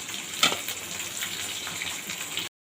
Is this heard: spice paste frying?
yes